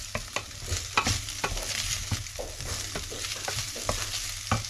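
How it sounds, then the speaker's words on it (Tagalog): Parboiled green beans sautéed with onion and garlic for adobong green beans: a continuous close sizzle with repeated scraping stir strokes against the pan, steady and moderately loud, no voices. "igisa na natin sa sibuyas at bawang"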